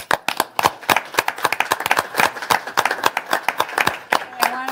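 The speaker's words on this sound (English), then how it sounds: "So I want to give everybody a big round of applause" A small group at a post-election news conference applauds the caucus and candidates, with a dozen or so distinct, sharp, fairly close claps rather than a dense wash, and a voice briefly at the end.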